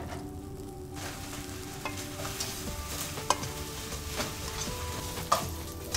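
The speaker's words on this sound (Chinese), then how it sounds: "早上炒菜呢" Food stir-fried in a pan in the morning: a steady, close crackling sizzle with occasional sharp clinks of a spatula against the pan, heard alone without talking.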